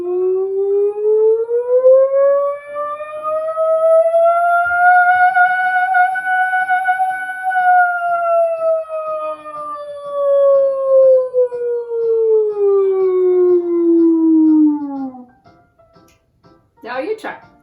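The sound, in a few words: voice imitating a siren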